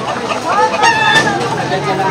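Chickens cluck and call at close range while the birds are being removed, mixed with a steady murmur of nearby people and background noise.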